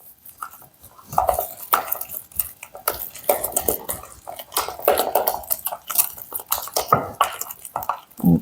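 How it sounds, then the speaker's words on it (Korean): A spoon clatters and scrapes around a bowl as kimchi seasoning is mixed with sugar, steady clinks and wet sloshing strokes repeating close up with no talking. "설탕을 넣고 골고루 잘 섞어주세요"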